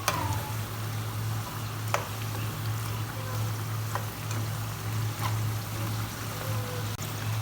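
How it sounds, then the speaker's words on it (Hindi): Zinger French fries deep-frying in oil over a high flame give a steady, loud bubbling sizzle, with a few faint clinks as they are turned. A low hum runs underneath and nobody speaks. "अच्छी तरह से जिंजर फ्राइज़ जो हैं वो फ्राई हो गई हैं"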